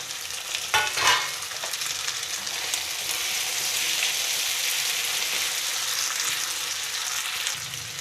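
Potato pieces fry in a pan with onion, ginger-garlic paste and turmeric, giving a steady, hissing sizzle. A brief clatter of stirring comes early, then the frying continues evenly and close by.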